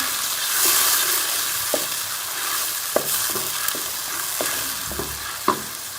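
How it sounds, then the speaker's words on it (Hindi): Tomato paste frying and being stirred in a pan for matar kofta, a steady soft sizzle with several sharp scraping clicks from the spoon at irregular intervals, close and fairly quiet, no talking. "इसके अंदर टमाटर का पेस्ट भी शामिल कर लिया है।"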